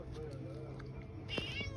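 A cat meows a few times close by, short and faint, with a person talking nearby and steady background hum.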